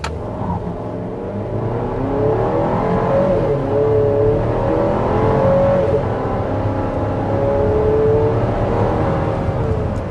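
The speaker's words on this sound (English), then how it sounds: "that was above 60 miles per hour. And, overall, that was pretty strong acceleration" A 2025 Buick Enclave Avenir pulls hard past 60 mph, its engine note climbing in a steady, rising drone under continuous road and wind roar, heard from inside the cabin without talk.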